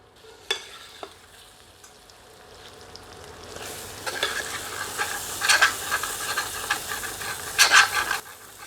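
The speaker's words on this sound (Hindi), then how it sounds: "अब हम इसे 5 मिनट के लगभग मध्यम आंच पर और भूनेंगे।" Chicken for ghee murgh sizzles steadily in a pan over a medium flame, the frying hiss building and crackling louder as a ladle stirs and scrapes through it, with no voices.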